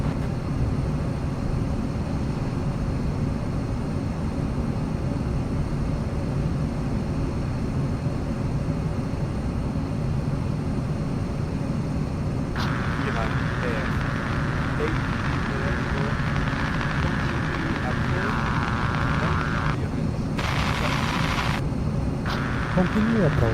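An airliner's engines rumble steadily on a Cairo to Amman flight in a VR flight simulator, and a higher whine joins partway through as it spools up for takeoff, with voices talking over the noise.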